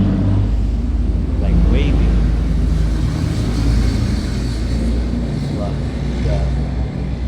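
Heavy trucks roll past on a busy road, a loud continuous low rumble of engines and tyres that swells and fades as vehicles go by, with voices murmuring underneath.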